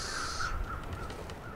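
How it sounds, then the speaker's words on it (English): A crow caws in the snowy wilderness of The Long Dark survival game, a single harsh rasping call up close, followed by quieter trailing caws over a faint ambient background. "I hear the crows."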